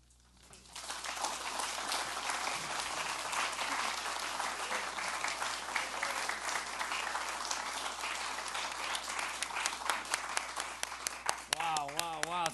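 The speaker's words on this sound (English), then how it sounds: "Let's give another round of applause to Nicole, everybody." Audience applause at a short story contest awards ceremony in Little Tokyo, a dense, sustained round of clapping from a full room that starts abruptly and carries on steadily, with a voice rising faintly near the end.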